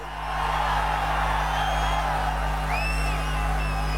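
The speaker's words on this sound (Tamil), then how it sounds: "குமராபாளையத்தில் நடைபெற்ற கூட்டத்தினுடைய ஆரவாரம் செவிய தொலைச்சுக்கிட்டு போகுது" A large crowd cheers and whoops at a political rally in Kumarapalayam, a continuous loud roar with shrill whistles rising above it and a steady hum beneath.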